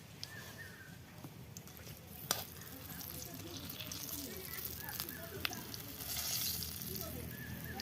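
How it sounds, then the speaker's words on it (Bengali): Dried whole chillies and bay leaves frying in oil for a traditional Bengali chutney, a steady close sizzle with occasional stirring knocks, under talk. "তেল দিয়ে দিলাম, শুকনো গোটা লঙ্কা"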